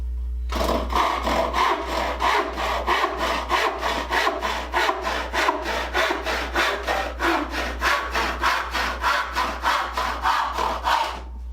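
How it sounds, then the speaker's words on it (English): A handsaw cuts through a wooden board to make a tool rest, its steady back-and-forth strokes rasping in an even rhythm of about three per second, loud and close, without any talking. "I'm going to cut an extra tool rest because I have this nice bevel on the end that matches"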